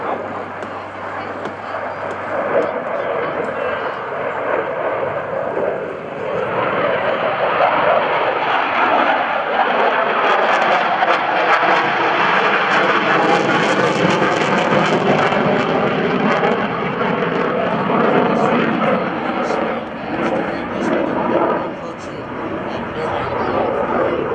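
Loud F/A-18F Super Hornet jet roaring past at an airshow with a sweeping engine rush that swells and fades, a voice talking faintly underneath.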